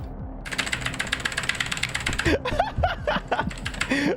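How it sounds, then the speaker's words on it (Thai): Computer keyboard typing: a dense run of rapid clicking keystrokes with a voice talking and laughing over it, in a game session. "เสียงคีย์บอร์ดนี้จะต้องสนอหูทุกคนมากแน่นอนเลยครับผม"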